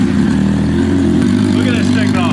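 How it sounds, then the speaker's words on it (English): Car exhaust system with a leak at a rivet on the back side, running and rumbling steadily and loudly up close, a deep continuous drone throughout. "what this exhaust sounds like"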